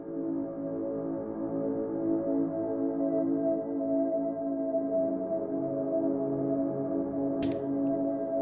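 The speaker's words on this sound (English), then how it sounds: "electric guitars, which is creating that big pad." Layered electric guitars run through effects to form a big sustained pad, a steady, dense wash of tone holding at an even loudness throughout with no talking.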